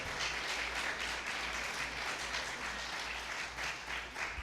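Steady, sustained applause from the audience at a city council candidates' forum fills the whole stretch at an even, fairly loud level with no voices on top.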